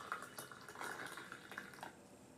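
Yellow tea is poured using a double gong dao bei method, a faint, continuous trickle and splash of liquid into vessels with small clinks, quiet and close, without speech.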